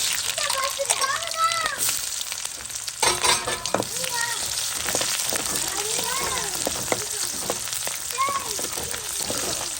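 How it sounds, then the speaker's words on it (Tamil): Steady crackling sizzle of onions frying in hot oil, with occasional stirring scrapes and children's voices chattering in the background. "வெங்காயம் நல்லா பொன்னிறமாக வதங்க வர சேர்க்கணும்"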